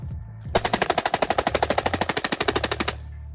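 A rifle fitted with a forced reset trigger fires a rapid burst of about two dozen evenly spaced, loud, close shots lasting roughly two and a half seconds, with no talk.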